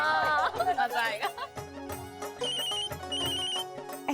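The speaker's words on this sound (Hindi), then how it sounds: "एक मिनट, माँ का फोन है।" A mobile phone ringtone plays loudly for several seconds in a home scene from a Hindi TV serial, a repeating electronic melody with other voices and background music around it.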